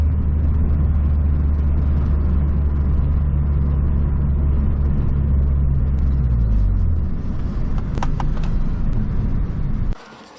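Turbocharged Mazdaspeed3 with an electronic boost controller pulls hard at wide open throttle, its engine roaring loud and steady close by as the pitch climbs, then cuts off abruptly near the end.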